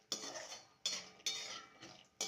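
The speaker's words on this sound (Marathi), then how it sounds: "डिंक काढून घेऊयात आता यात। थोडा वेळ भाजून घेऊयात छान" Edible gum roasting in a pan, stirred with a metal spoon, gives four sharp clinks of metal on metal, each followed by a soft scraping hiss, close and quiet with no talking.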